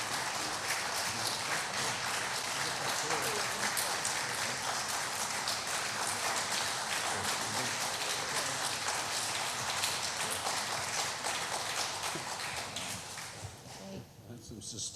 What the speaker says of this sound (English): That's some sustained applause.